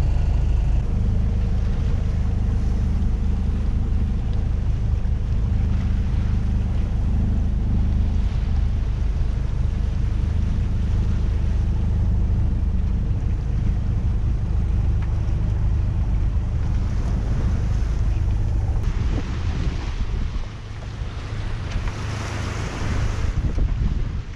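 A sailboat motor sailing through big waves and squally wind on an open-water crossing, a steady loud roar of wind buffeting the mic and water rushing past the hull, with no talk and a brief lull near the end.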